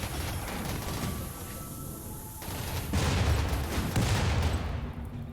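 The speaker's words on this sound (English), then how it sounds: "The ones in the middle are typically going to get destroyed because there's a lot of crossfire and they're going to get hit by my autocannon turrets" Autocannon turrets fire in a RimWorld battle against mechanoids, a dense, rolling clatter of rapid shots that swells louder and busier toward the end, with no talking.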